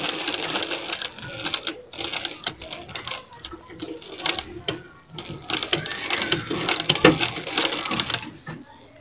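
A sewing machine stitching a lace frill, its needle chattering in fast mechanical bursts that pause briefly between runs, close and fairly quiet.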